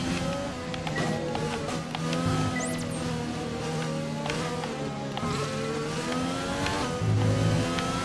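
High-revving racing car engines in a racing video game whine and shift pitch continuously, several cars roaring close together with gear changes, loud and steady throughout.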